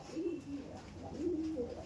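A pair of full-throated Fulsira pigeons coo nearby, two soft, rolling coo phrases repeating over a quiet background, with no voices.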